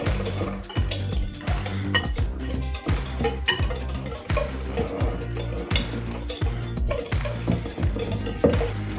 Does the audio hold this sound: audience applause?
no